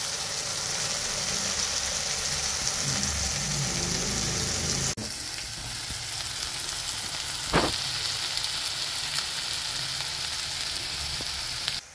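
Onion, ginger and garlic with a little pink salt fry in a pan for a fish curry, giving a steady, close sizzle throughout with one brief sharp clink partway through; no one speaks.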